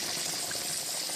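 Chicken pieces coated in seasoned flour fry in hot oil, giving a steady, close, even sizzle and crackle that holds without a break and with no talking over it.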